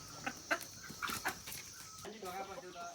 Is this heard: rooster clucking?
yes